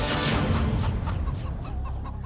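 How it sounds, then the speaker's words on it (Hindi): Several chickens cluck loudly and close by in a busy flock, a steady run of repeated short clucks over a dense background. "यहाँ तो अनेकों मुर्गियां उपस्थित हैं।"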